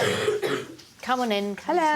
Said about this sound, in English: You've got this terrible cough.